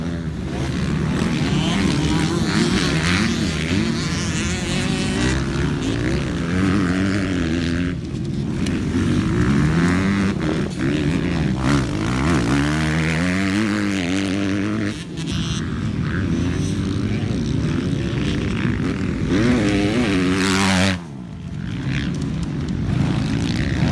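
A 2019 Kawasaki 250 KXF motocross bike, prepared by CBO, runs loud and continuous on a dirt track, its engine revving up and down in rising and falling sweeps, with brief dips as the throttle is chopped.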